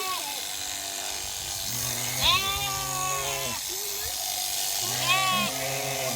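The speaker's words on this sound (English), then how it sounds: "We had 4 sheep that needed shearing." An East Friesian dairy sheep is shorn with electric shears, the clippers humming steadily nearby while the sheep lets out two loud wavering bleats.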